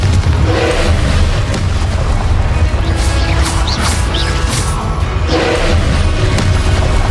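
Confringo spell explosions in Hogwarts Legacy, loud dense booming blasts with crashing bursts layered over a constant low rumble, several impacts spread across the stretch.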